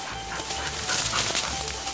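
A hunting dog on a woodcock hunt whimpers and yips continuously outdoors, fairly close, over a noisy background.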